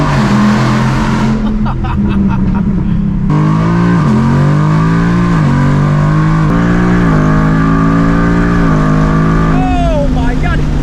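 A Ford Mustang with a Saleen-tuned drivetrain and quick-shifting transmission accelerates hard. Its loud engine note climbs and drops through several rapid upshifts in a row, heard up close from inside the car.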